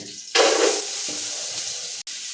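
Chopped onion, whole bay leaf and dried chillies dropped into hot oil, an abrupt loud sizzle that settles into a steady frying hiss with a brief stirring clatter, close and alone.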